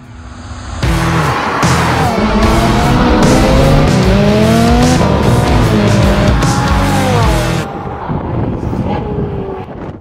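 A Lamborghini Huracan Tecnica, a naturally aspirated supercar, roars under hard acceleration with rising engine sweeps through several gear changes, loud and close with wind noise, easing off near the end.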